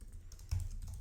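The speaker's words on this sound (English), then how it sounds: "typing something with no mouse clicks" Fingers type on a computer keyboard with no mouse clicks, giving a short run of soft key taps and one louder thud near the middle.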